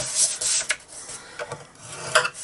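A few short rasping strokes as a tool scores 5 by 4 inch cardstock along the grooves of a Simply Scored scoring board, quiet and close, with no voices.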